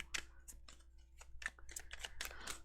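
Quiet, crisp rustling and flicking of tarot cards being shuffled by hand, a series of soft irregular snaps close up.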